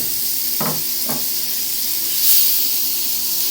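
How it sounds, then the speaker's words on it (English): Minced meat for spaghetti bolognese sizzles loudly in a hot pan, a constant bright hiss that swells briefly, with a couple of soft clunks early on. "Then we're going to get our mincemeat and simply pop it up like that. And instantly it'll start to sizzle."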